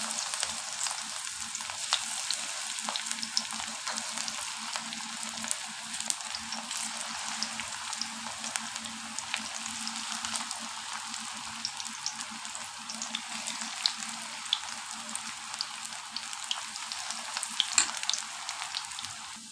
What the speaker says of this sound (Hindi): मैं इसमें पकौड़े डालती जाती हूँ।